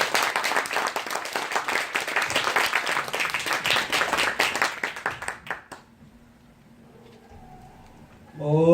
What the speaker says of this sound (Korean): 강사 목사님을 박수로 맞이하도록 하겠습니다